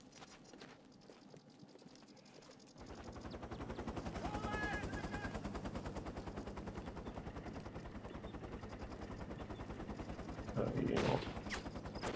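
Rapid Kalashnikov automatic rifle fire in the war shooter game Shellshock 2, a dense steady rattle of shots running for most of the stretch after a quiet start, with a brief louder burst near the end and a voice speaking briefly.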